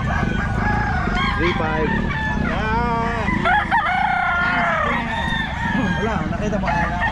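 Several young bullstag roosters crow at a busy Bocaue pet market, their rising cock-a-doodle-doo calls close and overlapping amid clucking and steady crowd noise, with people talking nearby.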